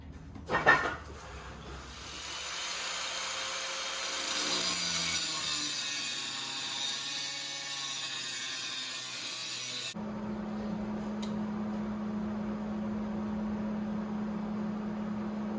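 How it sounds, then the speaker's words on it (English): Metal being cut and ground while building an off-road scissor jack: a few sharp clanks, then a loud, continuous high whine of a cutting tool that gives way to a steadier, lower grinding drone, close and with no talk. "now it's time to cut and grind."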